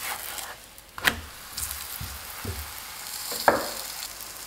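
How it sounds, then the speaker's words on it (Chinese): Flatbread dough sizzling in hot oil in a pan, a steady close frying hiss with a few sharper crackles and pops scattered through it, no voices. "油热后放入饼皮， 烙至饼皮的表面变色"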